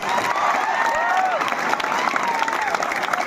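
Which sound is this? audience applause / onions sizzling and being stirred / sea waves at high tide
audience applause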